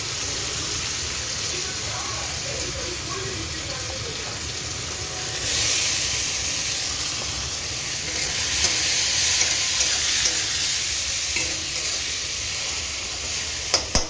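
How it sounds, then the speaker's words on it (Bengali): Onions and green chillies fry in oil, a loud, continuous hissing sizzle close by that swells briefly partway through, with faint stirring underneath and no speech. "লাল লাল করে ভাজা হোক"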